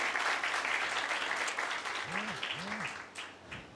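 Lively audience applause during a lecture on the Book of Acts, dense clapping that thins and fades toward the end, with a couple of short voiced sounds over it.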